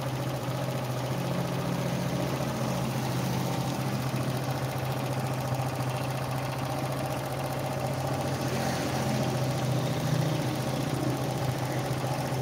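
A Suzuki Shogun 125 SP motorcycle, just restarted after long storage with a smoking exhaust and piston trouble, idles roughly with a steady low engine drone throughout.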